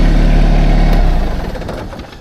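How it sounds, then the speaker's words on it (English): Close by, a tractor engine rumbles loudly and steadily at idle, then its low throb grows choppy and fades as it winds down toward shutoff. "Then you have to turn your tractor off"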